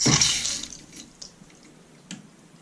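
Water gushes from a newly replaced bathroom sink faucet in a loud initial burst, then thins to a sputtering trickle with a few scattered drips and clunks, close by.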